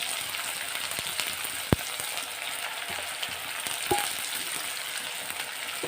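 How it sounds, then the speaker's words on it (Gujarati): Chopped green onions frying in hot oil with popped mustard seeds and cumin give a steady, fairly quiet sizzle throughout, broken by a couple of faint clicks and taps of stirring. "ત્યારબાદ આપણે જે લીલી સમારેલી ડુંગળી છે તેને આપણે એડ કરીશું।"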